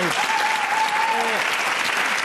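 A television studio audience bursts into loud, steady clapping that fills the whole moment, with a brief voice rising over the applause.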